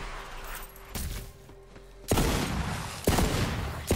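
Borderlands 3 gunfire, heard as a few separate loud bursts of shots spaced about a second apart, each trailing into a rumbling decay, close and with no voices.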